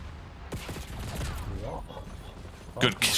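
Bursts of gunshots in Black Ops 6, a rapid volley early on and two louder sharp cracks near the end, with someone speaking between them.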